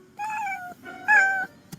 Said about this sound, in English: why are there so many cats around here?